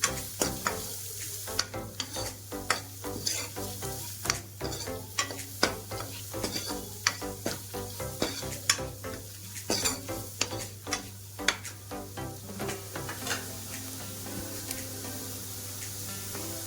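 A spoon stirs tomato saaru with turmeric powder in a hot pan, giving repeated scraping and clinking strokes over a steady sizzle, close and moderately loud, with no talking.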